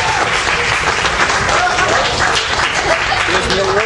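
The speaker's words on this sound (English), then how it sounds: "Let's give her a big round of applause for Lila Cugini coming to the stage." Steady, loud applause from a comedy open mic audience fills the room without a break, dense clapping and crowd noise holding at an even level from start to finish.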